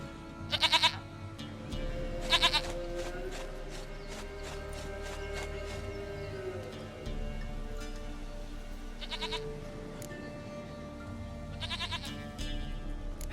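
A goat in The Witcher 3 Wild Hunt bleats softly and repeatedly, with short sharp crunchy steps and game ambience between the calls.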